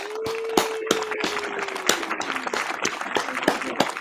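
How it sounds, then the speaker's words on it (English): Audience applause for a female guest on a podcast, a steady wash of clapping with some cheering voices, loud and continuous throughout, with a sustained whistle or tone sliding down underneath. "give her a standing ovation. Round of applause"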